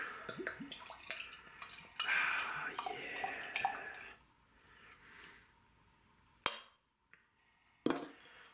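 Dark Prairie Artisan Ales Consider Yourself Hugged beer is poured into a glass, a soft, quiet gurgle and trickle lasting a few seconds, followed by faint drips and light clinks in a hushed room.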